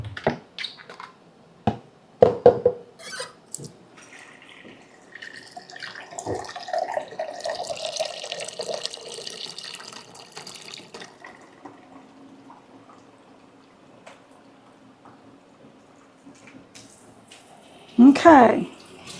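Tap water runs to fill an electric pressure canner, a soft hissing stream under a speaking voice, with clinks and knocks before it and a louder splash near the end.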